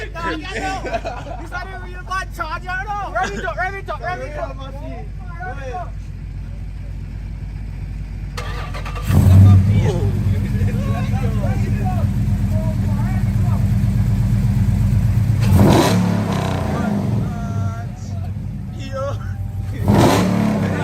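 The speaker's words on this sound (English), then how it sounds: "the Durango about to start up" A Dodge Durango starting up and revving outdoors among a chattering crowd, its engine rumble swelling around the middle and rising again in surges toward the end, mixed under talk.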